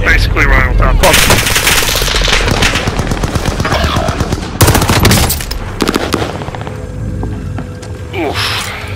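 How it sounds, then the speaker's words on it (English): Loud, sustained automatic gunfire in a shooter video game, dense overlapping shots and mechanical clatter filling the whole stretch, with a brief lull near the end and a voice faintly beneath. "I had two different people shooting at me."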